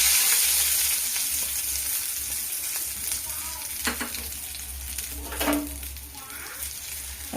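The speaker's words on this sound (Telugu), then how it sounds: "తర్వాత జీలకర్ర, 2 ఎండుమిర్చిల ముక్కలుగా చేసుకొని, ఆవాలు అండ్ శనగపప్పు, కొద్దిగా కరివేపాకు ఫ్రై అయిపోయిందండి" Cumin, broken dried red chillies, mustard seeds, chana dal and curry leaves sizzle in a hot oil tempering for tomato chutney, a close, steady crackle with occasional stirring clicks.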